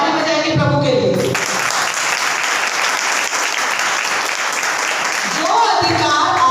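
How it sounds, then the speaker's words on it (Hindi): A church congregation claps for the Lord, a loud sustained round of many hands clapping, with a preacher's voice speaking just before it starts and again as it ends. "ताली बजाएंगे प्रभु के लिए।"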